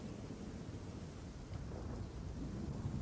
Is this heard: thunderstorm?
yes